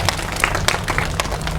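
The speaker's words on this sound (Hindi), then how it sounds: "ऐसे ताली करके बजाएं" A seated audience at a Brahma Kumaris spiritual talk claps together in a steady, dense burst of applause, loud and close throughout.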